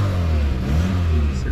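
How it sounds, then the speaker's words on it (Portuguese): The 1.8 alcohol engine of a 1987 VW Passat GTS Pointer gets a short, light rev, a close steady low hum that swells slightly and settles. "Acelerei um pouquinho aqui."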